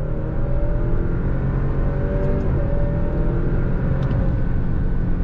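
A 2022 Alfa Romeo Stelvio sport SUV accelerates hard on throttle, its engine note climbing steadily and dipping briefly at quick gear shifts, loud and close from inside the cabin throughout.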